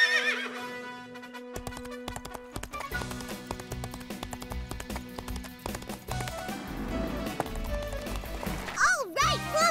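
A horse in a classic Strawberry Shortcake cartoon lets out whinnies amid clip-clopping hooves and busy tapping effects, with a child-like voice and other speech over the action throughout.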